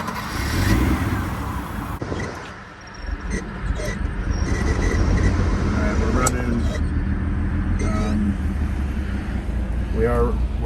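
A Mercedes-Benz W124 engine with turbo trouble cranks and catches, then settles into a steady rumbling idle with some clattering and a voice speaking over it.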